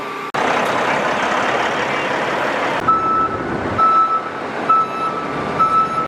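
A truck backing up on a farm on the last day of planting, its steady repeating reverse beeper sounding loud and close over a continuous engine rumble, with the beeps clearest in the later seconds.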